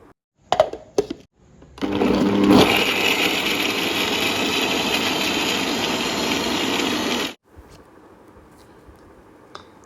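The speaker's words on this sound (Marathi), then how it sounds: "मिक्सरला आपण बारीक क्रश करून घेतले हिरवी मिरची अद्रक कढीपत्ता" A mixer grinder crushing green chillies, ginger and curry leaves whirs loudly and steadily for several seconds after a few brief clatters, then cuts off abruptly, leaving quiet room noise.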